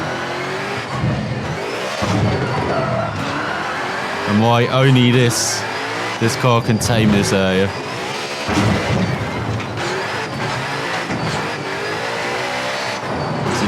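A V-Rally 4 rally car engine revving hard and climbing through upshifts, loud and close, with someone talking over much of it.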